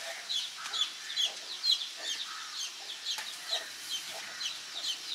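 A fighting rooster clucks in a steady run of short, fairly soft calls, repeated about every half second with no voices over them.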